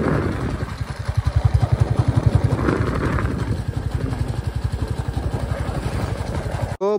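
A motorcycle being ridden along a forest road near Joypur on a trip from Medinipur, its engine thrumming in a steady rapid pulse close by before cutting off abruptly at the end.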